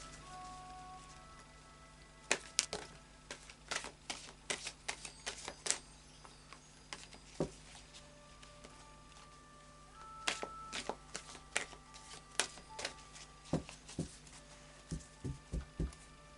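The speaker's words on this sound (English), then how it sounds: "I'm having to shuffle them long ways on." Tarot cards are shuffled long ways on, giving a series of sharp, close clicks and soft slaps in irregular bursts, heaviest near the end, over a quiet background with no talk.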